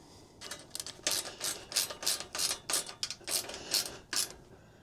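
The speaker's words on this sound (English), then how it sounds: "get the box wrench, hold at the bottom, and just snug them all up" A box wrench ratchets screws tight on an e-bike cargo rack, giving about a dozen crisp, close ratcheting bursts in an uneven rhythm. No talk is heard.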